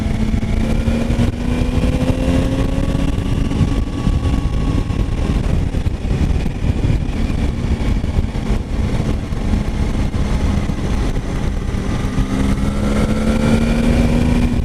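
A 2019 Triumph Tiger 800 XR (A2 version) motorcycle cruising steadily in sixth gear, a continuous loud engine drone with wind rush and slowly shifting pitch, no talking.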